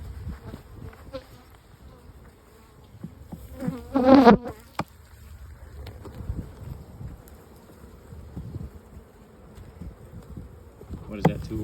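Honeybees in an open hive box make a low, steady buzz close by during summer hive work, with a louder individual bee passing near the listener and occasional handling knocks.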